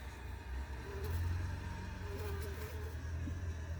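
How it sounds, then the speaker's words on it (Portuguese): Dense, steady buzzing of a large swarm of guaraipo stingless bees in newly collected colonies, close and continuous over a low rumbling background. "Vamos ver aqui que tem uma quantidade de abelhas aqui."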